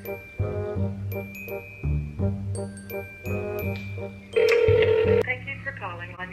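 An outgoing telephone call to a urology office produces a run of electronic phone tones and beeps in a rhythmic pattern, ending in a louder ringing burst followed by a brief chiming sequence.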